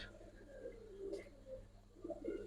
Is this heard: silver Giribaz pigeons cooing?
yes